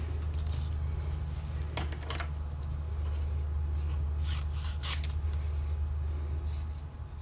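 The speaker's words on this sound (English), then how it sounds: "And we'll now cut around those." Scissors snipping around stamped paper pieces at a craft table, a few soft separate cuts and crisp rustles over a low steady hum, quiet and close.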